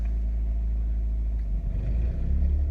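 Portable generator running steadily with a low continuous engine rumble, surging briefly midway before settling back into a lower idle, close and loud with no talk.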